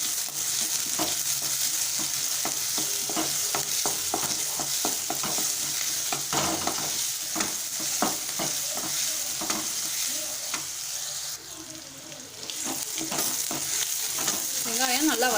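Onion sautés in a pan for a paneer bread toast snack, a continuous crackling sizzle broken by repeated scraping strokes of a spoon, with a short quieter patch near the end and no voices.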